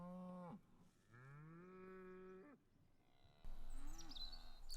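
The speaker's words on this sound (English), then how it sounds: "That cow does not belong to me." A cow moos twice, long drawn-out lowing calls close by, separated by a short pause, followed by quieter rustling and a faint higher-pitched animal call at the end.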